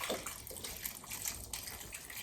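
Water poured and swished into a pot of bone stew with vegetables, a steady close splashing gush that runs continuously with brief sloshing surges.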